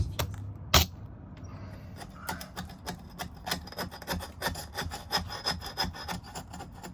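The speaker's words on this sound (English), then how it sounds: "It's gonna be real fun scraping all the silicone off for sure." Old silicone sealant being scraped off a boat portlight: repeated short rasping scrapes in an uneven rhythm, close and fairly quiet, with one sharp knock early on.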